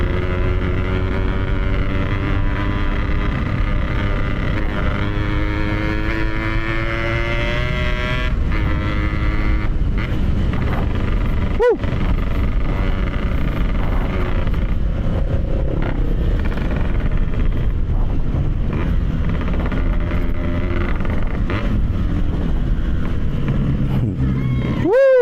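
A Yamaha RX-King 135cc two-stroke motorcycle ridden solo, its engine droning steadily with rising and falling revs and wind rush, heard close from the rider's position.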